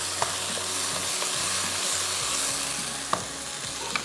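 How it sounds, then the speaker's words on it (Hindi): Chicken and spinach frying in a pan give off a dense, continuous sizzle with light stirring clicks, loud and close throughout, with no one talking. "अच्छे से इसको भूनेंगे इतना कि चिकन भी हमारी गल जाए और पालक जो है वो भी भुन जाए।"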